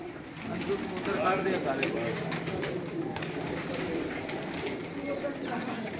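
A flock of pigeons released from their rooftop coops in a village, with soft cooing and fluttering in a steady outdoor wash, while someone talks over them throughout.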